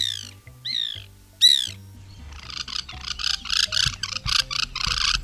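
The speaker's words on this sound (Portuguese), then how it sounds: "Uma delas é o pica-pau branco," A white woodpecker (Melanerpes candidus) gives a few loud, separate rising calls, then a quicker run of harsh chattering notes, with no voices present.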